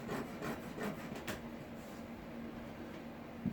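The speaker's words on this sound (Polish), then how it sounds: "Także zeskrobiecie trochę drewna" A sharp chisel shaves a thin layer of wood and old glue from a wooden garden bench, making soft, quiet rasping strokes, a few grouped near the start and then a fainter steady scrape.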